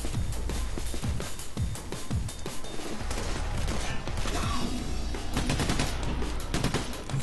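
Dense bursts of automatic gunfire and single shots from the video game Payday The Heist crackle almost nonstop at close range, with rapid overlapping volleys and occasional impacts.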